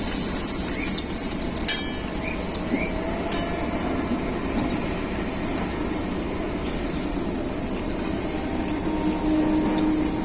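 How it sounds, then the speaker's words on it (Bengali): Bitter gourd leaf fritters fry in hot oil with a steady, close crackling sizzle that runs throughout, broken by a few sharp pops and light clinks early on. "বাকিগুলো একইভাবে ভেজে নেব।"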